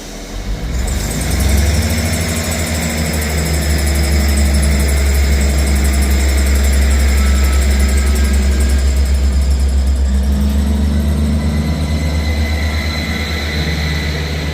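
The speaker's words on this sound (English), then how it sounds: "Departing out now is the 1157 Scotrail service from Edinburgh Waverley to Perth." A ScotRail diesel train pulls out of Inverkeithing station, its engine throbbing loud and steady with a deep low rumble that builds and holds throughout, with no voices.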